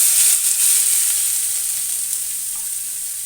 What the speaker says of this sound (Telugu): ఇందులో సన్నగా తరిగిన ఉల్లిపాయ ముక్కలను వేసుకొని వేయించుకుందాము